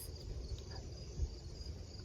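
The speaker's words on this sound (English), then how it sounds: "Can you hear the crickets?" Crickets chirp steadily at night around a small, quiet farm cabin, a constant soft trilling with low background noise and no talking.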